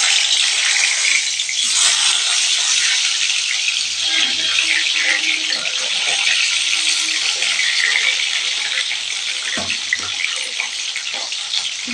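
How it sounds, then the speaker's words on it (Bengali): Hot mustard oil hisses and sizzles loudly as pieces of pointed gourd are added to the pan, a dense, continuous crackle that holds steady for the whole stretch, close up and with no voices. "সর্ষের তেলটা খুব ভালো করে গরম হয়ে গেছে, এর মধ্যে দিয়ে দিচ্ছি পটলগুলো"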